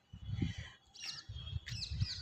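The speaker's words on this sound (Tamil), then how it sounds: "காக்கா வந்துருச்சு பாருங்கள்," Crows arriving on a rooftop give two or three short, harsh calls in quick succession, close and fairly faint, over a low background rumble.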